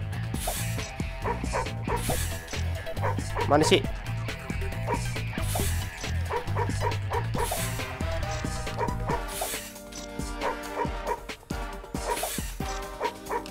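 A dog in Madagascar: Escape 2 Africa on PS2 gives repeated yipping barks and whimpers over busy game music, with someone talking in the foreground.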